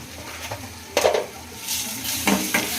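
A spoon scraping and clinking through chili and ground spices in a pan while cooking peanut bhajiya curry with yogurt, a few distinct metallic knocks and stirring scrapes at irregular intervals, fairly close.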